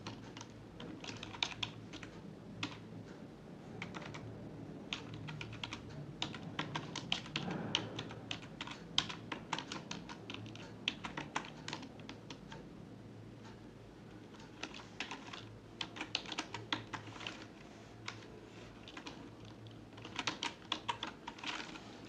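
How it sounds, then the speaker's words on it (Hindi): Someone types data into a spreadsheet table on a computer keyboard, producing a long, continuous stream of quick, close key taps with brief pauses and occasional heavier keystrokes. "ये मैं टेबल में कुछ डेटा टाइप कर रहा हूँ, आप इसको देख सकते हैं।"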